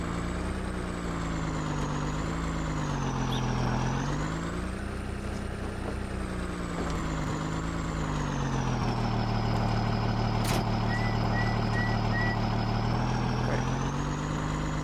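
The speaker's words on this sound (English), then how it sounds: "I'm going to take this truck with this gooseneck trailer over here up the same hill, see how well it performs" A Ram 3500 flatbed pickup pulls a gooseneck trailer up a hill in Farming Simulator 19, its engine droning steadily and loudly as the pitch rises and falls with load, alone without talk.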